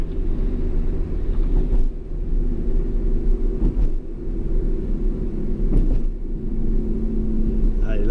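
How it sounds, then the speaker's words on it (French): Car engine climbing through the revs while pulling onto a road, a steady close rumble under the ride with a few brief knocks and clicks. "je monte dans les tours, je fais crier un peu le moteur"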